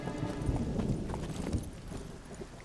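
Horse hooves clip-clopping in The Witcher 3 as the steed is called over, a busy patter of hoofbeats with a soft background bed, steady and moderately close throughout.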